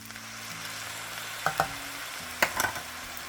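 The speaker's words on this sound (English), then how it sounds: "And stir that around." Soy sauce being stirred into a one-pot dinner, a quiet steady sizzle in the pan broken by a few scraping clinks of the utensil against the pot.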